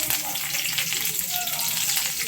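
Loud, dense crackling and spitting of tempering seeds frying in hot mustard oil with curry leaves, continuous and close.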